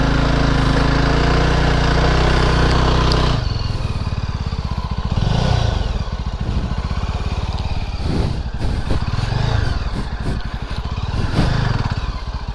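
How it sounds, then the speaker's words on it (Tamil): A motorcycle stuck in beach sand on Kappil Beach in Varkala, Kerala revs hard as its rear wheel spins, a loud close engine roar that drops after a few seconds and then rises and falls in bursts. "வண்டி பார்த்தீங்களா ஸ்பீடு பின்னாடி சுற்றிக்கிட்டு இருக்கு 15-20ன்னு"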